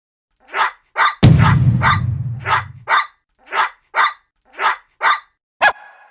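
A pet dog barks in a steady, evenly spaced run of about a dozen loud, close barks, with a heavy thud or rumble under the early barks.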